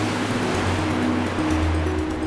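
Steady rushing of a magical water current in a cartoon, a continuous watery wash with a low sustained tone running beneath it throughout.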